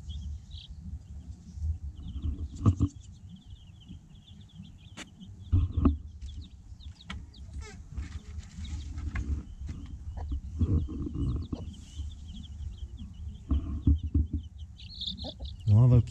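Young chicks and ducklings outdoors on their second day outside, peeping and chirping in scattered bursts over low rumbling background noise, fairly close and moderately loud.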